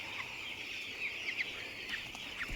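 Chickens on a poultry farm fill the air with a dense, steady chorus of high chirps and cheeps, several birds calling at once, moderately close and without talk.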